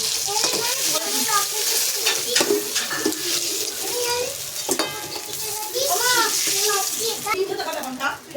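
Fish frying in oil in a pan and being flipped over, with steady hissing sizzle throughout, scraping and clatter of turning, while a person talks over it.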